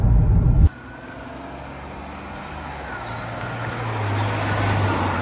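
Jaguar X-Type 3.0 V6 saloon, 21 years old, accelerating hard in sports mode: after a brief loud thump at the start, a steady low engine drone and road noise build gradually and swell louder toward the end, with no talking.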